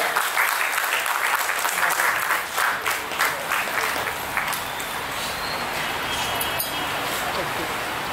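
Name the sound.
applause welcoming a guest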